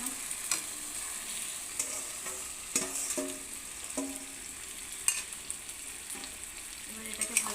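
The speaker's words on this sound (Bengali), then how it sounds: "এবারে রসুনটা ভাজা হয়ে এসেছে, এবারে মাংসটার মধ্যে দিয়ে দিলাম" Marinated chicken is stirred into garlic frying in a pan, with a soft sizzle broken by repeated clinks and scrapes of a utensil against the metal.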